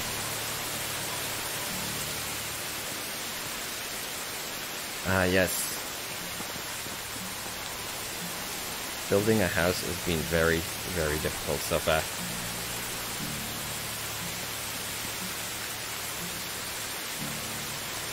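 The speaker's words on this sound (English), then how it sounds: "This rain is not letting up, is it?" Steady rain falls throughout in the medieval survival game Medieval Dynasty, a constant soft hiss under a man's occasional speech.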